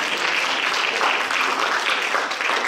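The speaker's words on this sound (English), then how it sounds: "give those who did a round of applause" Dense, even applause from a university reading audience, a continuous wash of many hands clapping at steady loudness for the whole stretch, with no voices standing out.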